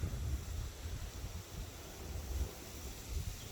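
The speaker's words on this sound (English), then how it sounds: "And it's windy." Steady wind buffets the microphone outdoors, a continuous low rumble with gusty swells and no voices.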